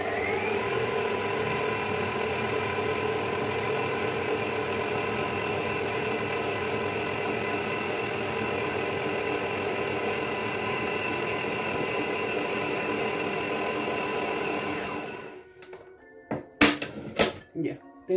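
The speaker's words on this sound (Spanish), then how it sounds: "lo vamos a llevar a batir a la batidora" An electric mixer kneads empanada dough made with hot water, its motor a steady droning hum for about fifteen seconds before it cuts off, followed by a few sharp knocks.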